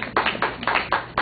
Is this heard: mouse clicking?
no